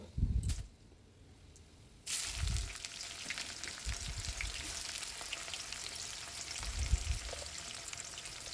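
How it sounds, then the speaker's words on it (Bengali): Chopped onions hit hot oil in a pan while cooking mutton at home, bursting into a sudden loud sizzle that settles into steady crackling frying, with occasional low stirring thumps and no talking. "তারপর তেলের মধ্যে পেঁয়াজ কুচিগুলো দিয়ে দেব"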